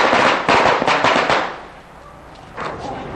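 Firecrackers go off in a busy Taichung city district: a close, loud string of rapid cracks and pops for about a second and a half, a brief lull, then another crackling burst near the end.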